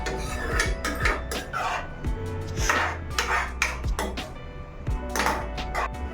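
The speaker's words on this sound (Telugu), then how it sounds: "వాటర్ పోసుకున్నాక ఇలా కలపండి కొంచెం." A metal spoon stirs veg Manchurian gravy with added water in a pan, making repeated clinks and scrapes against the metal in an uneven rhythm over a steady low hum, close and moderately loud.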